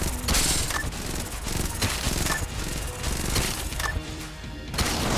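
Dense, rapid gunfire and bursts of shots ring out continuously from Enter the Gungeon on Nintendo Switch, loud and layered with crashing impacts throughout.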